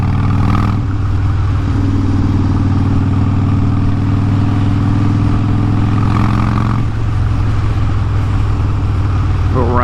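A motorcycle engine hums steadily while riding through town, a low, continuous drone with wind rush and slight shifts in pitch, close and loud, with someone talking over it.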